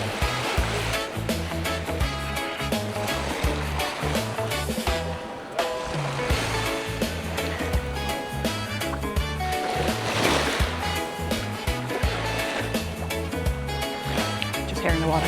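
Beach water and waves in the Cayman Islands wash and splash steadily and loudly, a dense, continuous surf wash with no voices over it.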